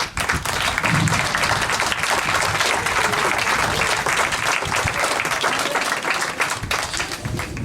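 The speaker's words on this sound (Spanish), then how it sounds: "Yo creo que le debemos dedicar un gran aplauso." Sustained applause from an audience at a youth sports league event, steady and dense throughout with some crowd noise mixed in.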